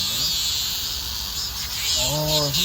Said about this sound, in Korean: 여기 울고 있는 매미 보이시죠?